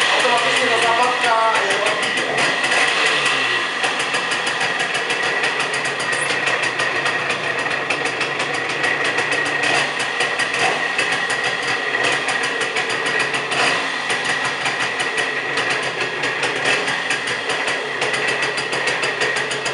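A Romet Chart 210 moped engine runs close by with a continuous rattling, buzzing idle that holds steady as throttle is applied, loud throughout with someone talking over it.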